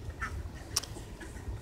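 A single quiet duck quack sounds at a distance over a low outdoor background murmur, with ducks grazing in a garden.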